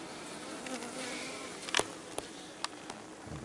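Bees buzzing steadily around an open Kenyan top-bar hive during a full inspection, a close, continuous drone broken by a few short clicks and knocks from handling the combs, with no talk.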